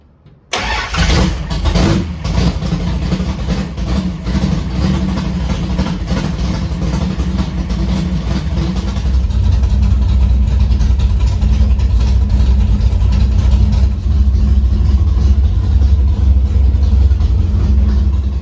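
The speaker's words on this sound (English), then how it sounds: "first I'm just gonna start up the car and check for leaks" A car engine cranks and catches, then settles into a steady, loud idle that rumbles on continuously with no talking.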